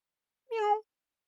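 A single clear cat meow during a tabletop horror roleplaying game, about a third of a second long, close and alone against silence.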